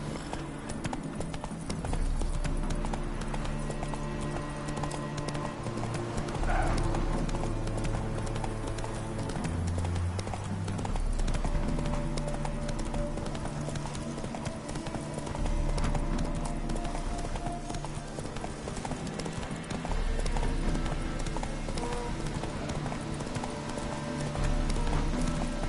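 Steady clip-clop of the horse Roach's hooves in The Witcher 3, a continuous trotting rhythm throughout under in-game music, with no talk.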